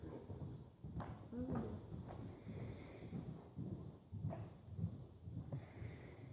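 A horse canters with a steady, rolling beat of hoofbeats on soft ground, heard from a moderate distance over a faint breath of wind.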